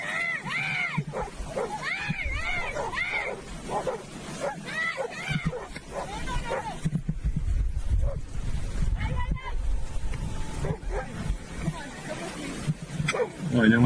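Several dogs bark, yip and whimper excitedly in the wilderness as they confront a big moose, loud and chaotic, with a person speaking over parts of it.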